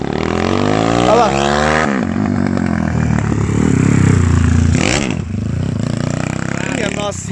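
A 351cc motorcycle engine is ridden hard nearby, revving loudly with rising and falling pitch sweeps as it accelerates and shifts, a continuous buzzing roar throughout.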